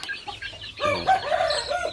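Chickens on a Thai pit-raised chicken farm, with soft clucks at first and then a loud, close rooster crow rising and wavering over about a second, with more clucking around it.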